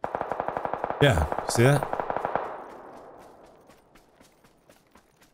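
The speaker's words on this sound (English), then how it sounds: "I just keep hearing them shooting" Rapid automatic gunfire in PUBG, a steady run of evenly spaced shots that starts close and fades further off, under a short spoken remark.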